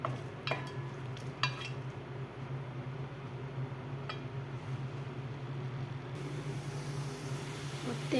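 Onion frying in oil for a dried-fish curry, a soft, steady sizzle heard close up, with a few light utensil clinks early on.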